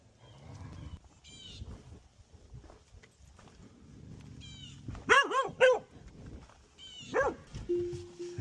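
A dog barks in a sharp burst of several loud barks midway, then a few more after a pause, close by, with a person talking soothingly before and between.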